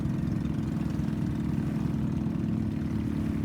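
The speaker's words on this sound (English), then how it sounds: "It probably has a 8 to 18 horsepower engine." A fast bamboo outrigger fishing boat, about 24 feet long with an 8 to 18 horsepower engine, drones past with a steady, low, throbbing motor note at constant loudness.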